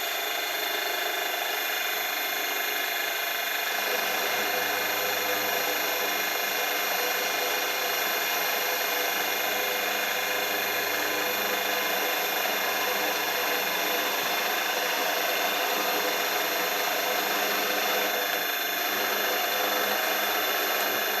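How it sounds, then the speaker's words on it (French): A milling machine runs steadily while a cutter takes a light pass on a metal workpiece squared with brass pins, giving a continuous whining hum with high tonal overtones and no breaks. "donc on va fraiser"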